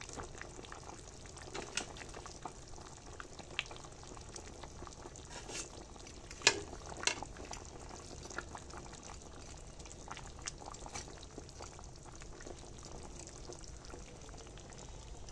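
A fish curry with cauliflower and potato simmers quietly in a pot, giving a faint, steady bubbling hiss with occasional soft clinks.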